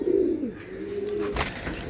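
Giribaz pigeons coo softly nearby, one low drawn-out call following another, with faint background noise and no talking.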